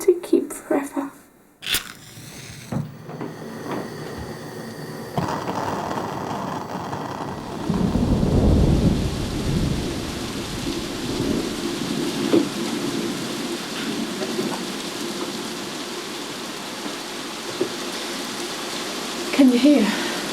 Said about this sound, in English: No spectacular thunderstorm, thunder and lightning.